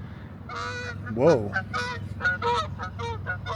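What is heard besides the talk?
ducks honking as they fly overhead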